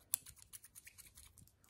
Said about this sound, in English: This is the sound of the black scissors.